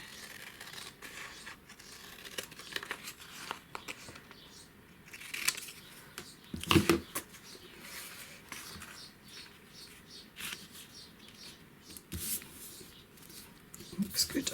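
Scissors snipping paper for a journal cover, soft close crisp cuts scattered through quiet room noise with faint breathy sounds, a louder cluster midway.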